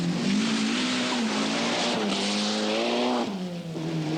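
A turbocharged Colt Lancer rally car on the 1982 Lombard RAC Rally drives past with a whining, rising and falling engine note and shifting gears, loud and close over a commentator's voice.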